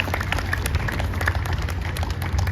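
An outdoor crowd at the opening-day ceremony of Toronto's Canadian National Exhibition gives light, scattered applause. The claps sound distant and steady over a constant low hum of wind and ambient noise.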